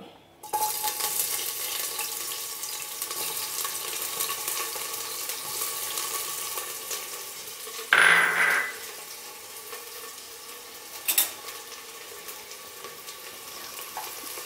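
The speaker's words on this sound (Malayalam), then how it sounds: "അതിലേക്ക് നമ്മൾ നേരത്തെ അരിഞ്ഞു വച്ചിരിക്കുന്ന സവാള ഇട്ട് കൊടുക്കും" Chopped onion dropped into about four spoons of hot ghee in a pan for coconut rice: a loud, steady sizzle close by, with a brief stirring scrape midway and a small clink near the end.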